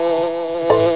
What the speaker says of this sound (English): Let's avoid these green bees.